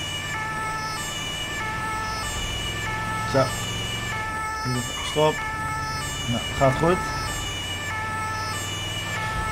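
An ambulance siren in GTA 5 wails steadily in the background, its rising and falling tone continuing under engine hum, with occasional short spoken remarks over it.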